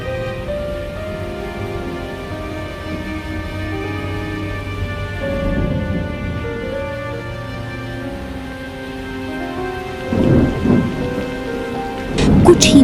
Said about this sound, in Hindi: कुछ ही पल में बारिश तूफान बन गई।